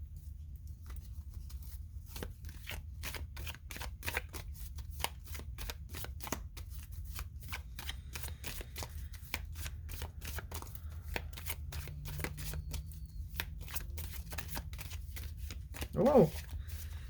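Oracle cards from a spirit animal deck being shuffled, a long run of quick, soft riffling taps close by, with a brief louder flutter near the end and a voice speaking quietly underneath.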